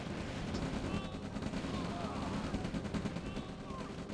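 Battle noise from the real-time strategy game OpenRA as tanks fight a large infantry army, with dense rattling gunfire and small-arms bursts running under continuous commentary.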